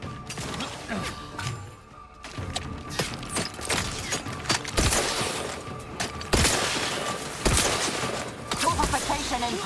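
Gunfire in The Outer Worlds, repeated sharp shots and bursts cracking at irregular intervals among mechanical clatter and impacts, loud and close, with voices heard in between.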